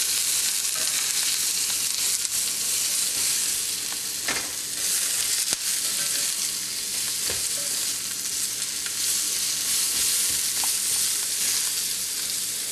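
Mushrooms sizzle steadily in a hot pan with salt and a few red chili flakes, a dense continuous crackle broken by occasional scrapes and clicks as they are stirred around, loud and close with no talking.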